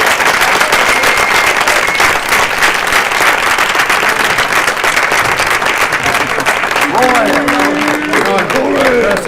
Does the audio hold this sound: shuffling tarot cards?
no